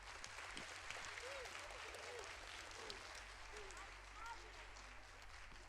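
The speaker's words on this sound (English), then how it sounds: "special round of applause for our soloist" Applause for a soloist at an elementary school winter music concert: faint, distant clapping from the audience spreads over several seconds, with a low steady hum beneath and murmuring voices mixed in.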